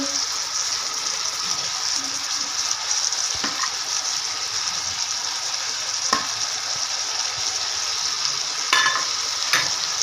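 Onions go into a hot pan with sauce for chicken chow mein, producing a steady, close hiss of frying with a few sharp clinks and scrapes from a utensil against the pan; no one speaks.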